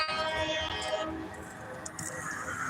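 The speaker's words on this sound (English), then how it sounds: "I hear that train a blowing." A train horn blows as a train heads north up the track, a sustained, moderately distant tone that fades after about a second, followed by low rumble.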